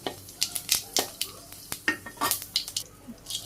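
Fenugreek seeds dropped into hot oil already holding cumin and bay leaf, sizzling softly beneath repeated sharp clinks and scrapes of a utensil stirring against the pan, close and fairly quiet, with no talking.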